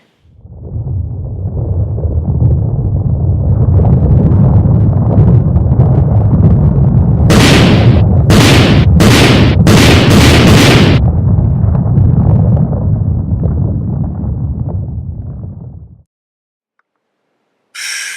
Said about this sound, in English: Let's watch it explode.